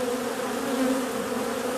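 Honeybees buzzing at an apiary hive in autumn, a dense, continuous drone of many bees close by, steady and fairly loud with no speech.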